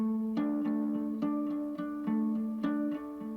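Two matching takes of the same guitar part playing intervals, heavily effected and panned hard left and right, ring out as sustained chords with plucked attacks every half second or so, steady and close with no voices.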